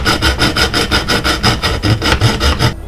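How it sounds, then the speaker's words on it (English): Hacksaw cutting through a workpiece held in a miter box, a loud close rasp of about a dozen quick, even back-and-forth strokes that stops abruptly at the end. "I'm going to use my miter box and hacksaw and just cut it off"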